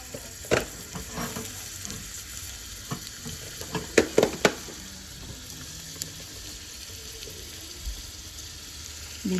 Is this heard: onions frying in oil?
yes